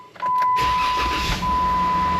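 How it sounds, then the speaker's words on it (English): A 2018 Jeep JKU Rubicon starts up close by: a short cranking whir, then the engine catches and settles into a loud, steady idle, with a faint high electronic chime tone running through it. "I didn't necessarily need to go ahead and start the car"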